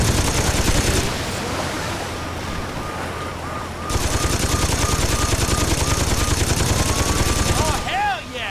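Rapid sustained gunfire from a mounted gun in the Saints Row 2 jailbreak mission, a dense continuous burst running nearly the whole clip, with a brief lull and a voice near the end.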